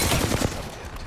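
Gunshots in a shooter video game, a dense, loud fusillade of overlapping shots in quick succession that fades slightly toward the end.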